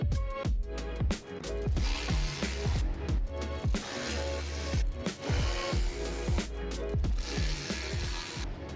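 Quick, close ratchet clicking on a 2010–2017 GMC Terrain while T15 Torx bolts under the hood are removed, coming in repeated bursts of rapid pawl clatter with brief pauses between strokes.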